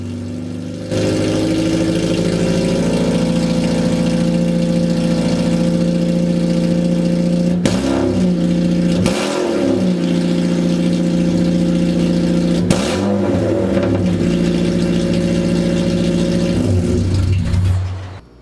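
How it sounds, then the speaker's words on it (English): A boosted Honda K-series engine breathing through a 3-inch straight pipe exhaust with no muffler idles loud and close, a steady rumble broken by two sharp revs that rise and drop back, with no talking. "Now getting back in the car to start it, really checking it's in neutral here, as you can hear."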